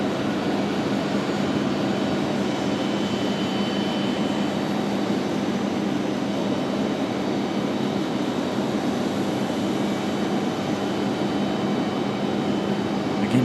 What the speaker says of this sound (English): The Delta CRJ arrival.